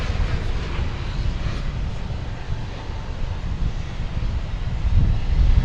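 An American Airlines Boeing 787-8, Flight 996 from Buenos Aires, arrives at DFW airport with a steady low jet roar that builds slightly toward the end, mixed with gusty wind buffeting the microphone.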